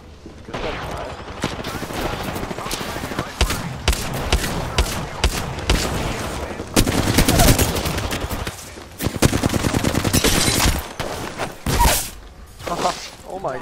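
Dense gunfire in the battle royale game Apex Legends: rapid automatic bursts and single shots crackle almost continuously at close range, layered with thuds and excited player voices talking over the fight.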